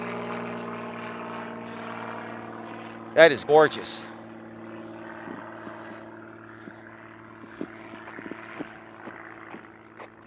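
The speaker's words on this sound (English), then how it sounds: "That plane just took off. Look at it turn its wings." A propeller airplane takes off and banks into a turn, its steady droning engine hum heard from a distance throughout, with people briefly talking and exclaiming over it.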